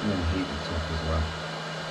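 A hot air gun blows steadily across the top of thermoplastic sheet being heated under a pressed plate, a continuous close-up whooshing hiss that stays even for the whole stretch.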